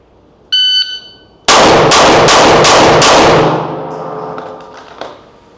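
At a shooting range, a short timer beep is followed by five loud, rapid gunshots fired in about two and a half seconds, each one ringing out into a lingering metallic tail.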